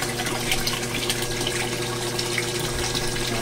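A Jebo DC 12000 pump runs steadily in a saltwater aquarium filtration room, a continuous watery hum and trickle holding an even level throughout with no voices.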